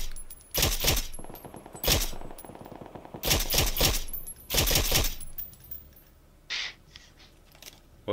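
Several sharp bursts of automatic gunfire from PUBG ring out in distinct clusters, loud and close, separated by short quiet gaps, with a fainter shot near the end.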